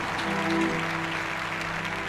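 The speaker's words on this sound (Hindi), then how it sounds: "जोर से ताली बजा" Worshippers at a Hindi morning prayer service clapping loudly as a group, steady rapid applause with a low sustained tone running beneath it, continuous for the whole moment.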